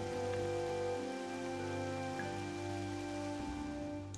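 Steady rain falls in the farming video game Innocent Life: A Futuristic Harvest Moon, a constant even patter of drops heard alone over a soft, sustained tonal background.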